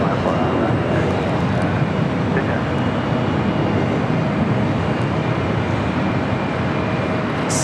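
Singapore Airlines airliner taxiing at LAX, its engines giving a steady, loud broadband jet roar that holds evenly throughout with no distinct breaks.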